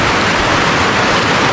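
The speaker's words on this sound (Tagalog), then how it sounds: "So, lakas ang ulan mga kasula." Heavy rain pouring down outdoors, a loud, dense and continuous roaring hiss close by with no pauses and no voices.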